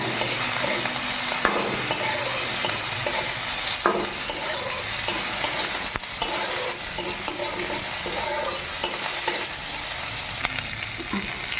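Ginger fries in a pan while being stirred, a steady close sizzle with frequent scraping and sharp utensil knocks against the metal, no speech.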